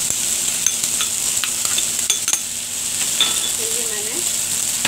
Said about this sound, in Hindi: मैं ये अच्छे प्याज डालती हूँ,